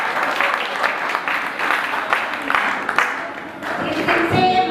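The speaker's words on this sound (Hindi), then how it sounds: "एक बार जोरदार ताली फिर से बजाओ" A gathering at a Jain temple ceremony, the Siddhachakra Mahamandal Vidhan, breaks into loud, sustained rhythmic clapping that fills the space for several seconds.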